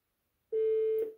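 A Fanvil VoIP phone emits a single steady keypad beep while a paging code is dialed, one clean tone lasting about half a second in an otherwise silent background.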